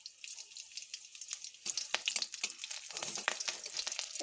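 Green chillies and five-spice seeds sizzle in hot oil in a wok, first as a soft crackle and then as louder popping and spattering bursts that keep going close up, with no voices.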